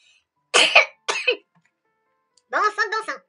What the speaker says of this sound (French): À chaque fois que je fais une vidéo, je tousse.